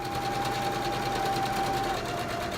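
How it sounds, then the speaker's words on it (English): A sewing machine stitches a quarter-inch seam straight across right-sides-together recycled denim for a jean pillow, a steady fast whirring hum running without a break at close range. "Now I'm going to sew a 1/4-inch seam all the way across."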